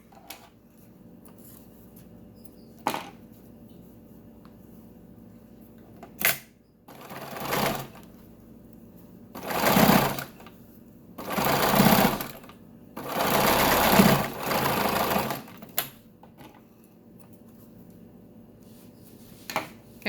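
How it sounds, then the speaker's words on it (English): Sewing machine stitching across the pleated humps of a fabric face mask, running in several short bursts of whirring separated by pauses and single clicks, close and fairly quiet, with no talking. "Sometimes you have to push it a little bit to get it up over these humps"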